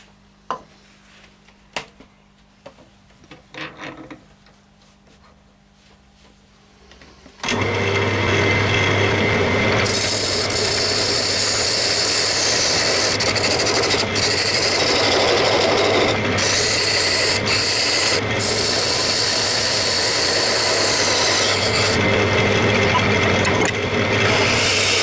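A wood lathe runs steadily while a tool cuts a tenon on a laurel wood box blank, with a continuous loud rasping scrape. A quieter stretch of small taps and handling noises comes first, then the sound starts abruptly and holds to the end.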